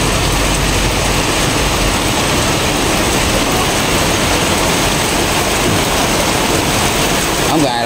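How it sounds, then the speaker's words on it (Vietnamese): Heavy rain pours during the rainy season, a dense, steady roar of water that stays loud and unbroken throughout, with no gaps or separate voices standing out. "À, mưa rất lớn luôn chị."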